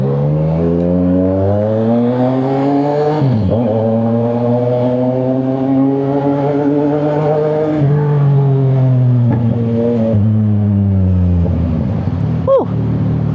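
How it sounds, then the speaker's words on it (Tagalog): A CFMoto 675NK motorcycle engine pulling away after a cold start, a loud, close, continuous drone that climbs and settles in pitch through several gear changes. "Alright, tapos na ang cold start ng ating motor."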